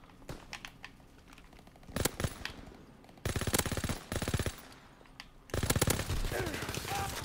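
Gunfire in the World War II shooter game Call of Duty rattles in sharp automatic bursts, loud bursts of rapid shots separated by quieter gaps.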